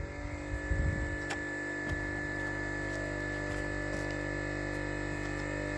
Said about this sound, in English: so the compressor picked itself up.